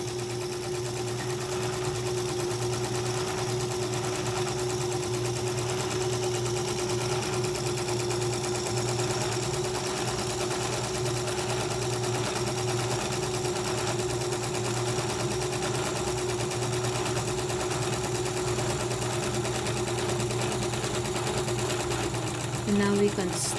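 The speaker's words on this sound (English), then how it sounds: "Press the control speed of the machine, and the bobbin will start to wind." A Singer Touch-Tronic 2001 sewing machine winds its bobbin, a steady, close mechanical whir with a rapid fine rattle, running evenly for the whole stretch, with a small change near the end.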